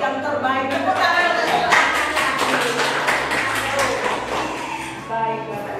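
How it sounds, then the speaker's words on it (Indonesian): Audience applause at a school event on positive discipline, a dense sustained clapping from a crowd lasting several seconds, fairly loud and continuous throughout. "Tepuk tangan."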